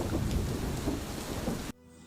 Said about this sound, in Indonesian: Badai masih bergemuruh, tetapi hanya di kejauhan.